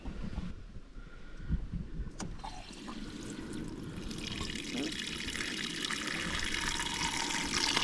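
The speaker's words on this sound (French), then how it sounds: "Le seau bien pratique. Hop, on va le remplir." Tap water runs into a bucket outdoors at a Tibetan temple in Spain, a steady rushing splash that grows fuller and louder as the bucket fills, with no talking.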